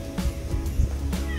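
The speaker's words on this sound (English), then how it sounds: "And there's the farm kitty." A farm cat meows a few short times at close range, the calls soft and brief over a low background hum.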